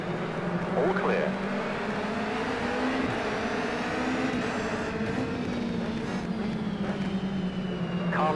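A race car in a racing video game passes on the left, its engine a continuous droning whine with gear shifts and shifting pitch, mixed with a second car's engine throughout.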